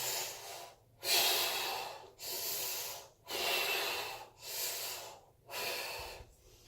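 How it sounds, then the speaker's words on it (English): Deep breaths during an osteopathic rib exercise, five long rhythmic breath sounds separated by short pauses, close and clear with no talking. "At the same time, you're breathing in and out."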